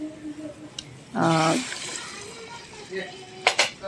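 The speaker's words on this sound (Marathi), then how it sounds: "थोडं पाणी घाला" A short splash of water poured into a simmering pan of kingfish (surmai) curry with kokum, lasting about a second, with soft kitchen noise around it.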